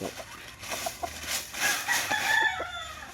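Rooster crowing among chickens kept for cockfighting, at moderate distance, with a drawn-out crow toward the end over background clucking and farmyard noise.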